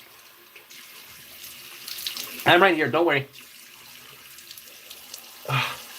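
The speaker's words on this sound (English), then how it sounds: "I'm just rinsing off my hands. Let me splash some water on my face real quick." Tap water runs into a sink while hands are rinsed and water is splashed on a face, a steady close hiss with brief splashes and a short spoken line over it.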